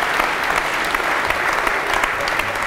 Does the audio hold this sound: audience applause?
yes